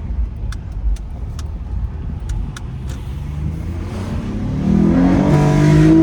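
An Acura TL Type-S accelerates on a backroad after a few sharp ticks, the engine note climbing loudly and steadily from inside the car with a brief chirp as it pulls away.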